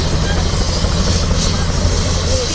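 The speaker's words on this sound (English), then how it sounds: "We're going on a helicopter." A helicopter carries passengers on a ride between London and New York, its rotor and engine filling the cabin with a loud, steady, close drone, while people talk over it.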